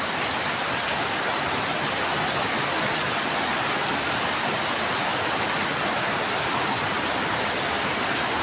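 Heavy monsoon rain in the Konkan pours steadily onto a flooded courtyard in a dense, unbroken hiss, close and even throughout, with no voices.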